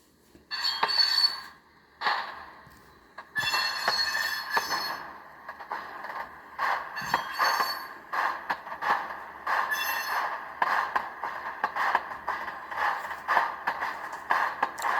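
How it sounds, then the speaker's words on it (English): A Soundtraxx Soundcar decoder through a 28mm speaker plays a simulated flat spot on a model train wheel, a steady metallic rolling clatter with a repeating chuff-like thump, fairly loud and close, with no talking. "The flat spot is probably one that drive you nuts because it simulates a flat spot on the wheel."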